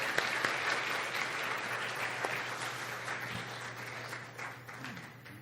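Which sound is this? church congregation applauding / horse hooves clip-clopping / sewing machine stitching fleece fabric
church congregation applauding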